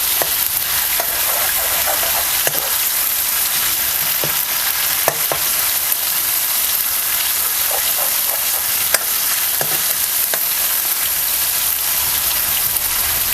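Chopped tomatoes stirred and sautéed in hot oil for a village-style ridge gourd curry, giving a steady sizzle with scattered crackles and occasional spoon taps against the pan, close and continuous with no talk.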